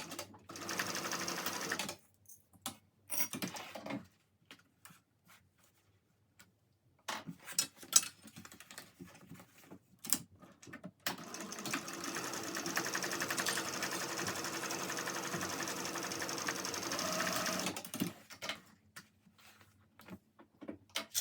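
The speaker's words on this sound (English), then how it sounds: "now I'm just going to baste the sides so that they stay in place" A sewing machine basting the side seams of a Cornish backpack runs in several bursts of steady, close stitching, with short pauses and small handling clicks between runs and the longest run in the second half.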